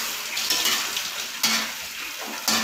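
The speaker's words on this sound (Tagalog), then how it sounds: "haluin natin" Sinigang with string beans, radish and shrimp stirred in a pot, giving wet clattering scrapes and sloshing in a few distinct strokes over a steady simmering hiss.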